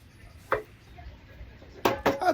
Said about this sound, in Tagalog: At hiwain na rin natin ang ating luya.